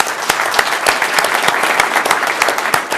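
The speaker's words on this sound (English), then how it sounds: "So if we could give her a round of applause as well." A room applauds at a Reno city council meeting, steady clapping from a modest crowd with distinct individual claps standing out, loud and sustained throughout.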